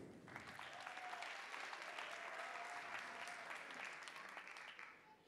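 Audience applause for the actors at the end of a student theatre performance, a steady wash of many hands clapping at moderate distance that holds for about five seconds before beginning to fade.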